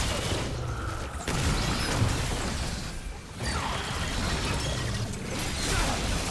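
Weapon reload in Remnant 2: layered mechanical clicks and clunks over a dense, continuous game soundscape of bursts and booms, steady and loud throughout.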